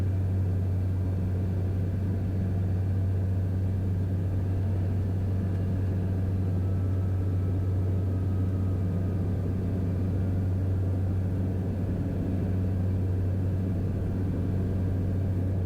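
Inside a King Air E-90 turboprop on final approach to Mackinac Island, a steady low engine drone hums continuously with a constant deep tone and faint background rumble, and no voices.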